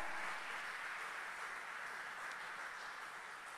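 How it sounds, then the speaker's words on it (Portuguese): A church congregation applauds in praise, a steady, dense wash of many hands clapping at once that holds for several seconds without any voices on top. "Dê um forte aplauso a Jesus"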